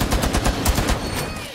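Rapid automatic gunfire from a first-person shooter game, a loud dense burst of repeated shots lasting over a second with little pause.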